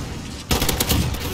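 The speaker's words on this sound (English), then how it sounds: "And because of the gunship." Gunship gunfire in the video game Modern Warfare: after a quiet half second, a sudden burst of rapid, loud automatic fire rattles on for nearly a second.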